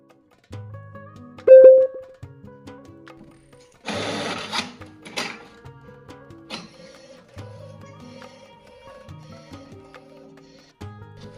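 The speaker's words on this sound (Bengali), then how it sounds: "এবার প্রিন্ট অপশনটা দিয়ে দিচ্ছি" A home colour photo printer printing with quality mode and a border, mechanical whirring and stepped motor tones in bursts with a short sharp feed noise, close and fairly quiet.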